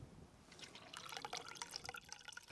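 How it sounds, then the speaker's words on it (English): Vegetable oil thinned with white spirit is poured into a diesel car's fuel tank, a quiet liquid trickle and gurgle of glugs and drips, close and alone. "we've added a splash of white spirit, and Bal is going to pour that into the tank."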